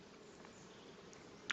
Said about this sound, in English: bees working on the ivy